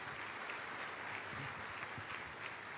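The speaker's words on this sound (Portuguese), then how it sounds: "Vamos dar um aplauso aí" A church congregation in Macaé applauds during a service, a steady wash of many hands clapping at a moderate, slightly distant level with no voices standing out.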